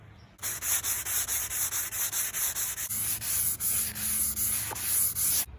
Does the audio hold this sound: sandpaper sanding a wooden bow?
yes